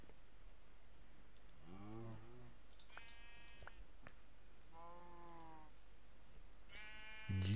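Sheep bleating in the video game Minecraft, several separate wavering bleats spaced a second or two apart, fairly clear over a quiet background with a louder burst at the very end.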